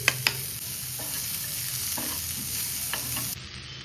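Onions frying in a hot pan give a steady bright sizzle throughout, broken by a few sharp scrapes and knocks of stirring, close and alone, cutting off near the end.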